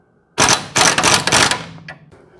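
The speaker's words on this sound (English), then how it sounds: "Use my handy dandy impact wrench again just to zip them back on." A few loud, rapid bursts of rattling impact-wrench hammering as bolts are zipped back on a 1964–1972 GM A-body's steering, each lasting a fraction of a second, then fading into quiet.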